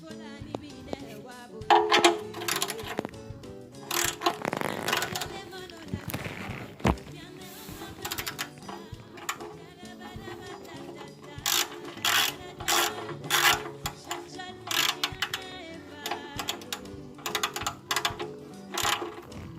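A socket wrench tightens the oil drain plug on a 2002 Honda Accord, giving bursts of quick ratcheting clicks that come in irregular runs with pauses between them.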